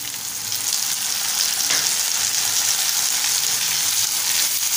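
Finely chopped tomato fries in a pan for a quick Malvani-style masoor amti, giving a steady, close sizzle with light stirring scrapes throughout.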